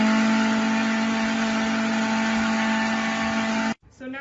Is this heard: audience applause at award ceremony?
no